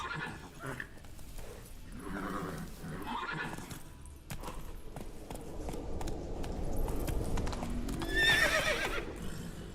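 Horse hooves clip-clopping in The Witcher 3 on the Skellige Isles, a rhythmic, close trot with a whinny, over game ambience that grows busier toward the end.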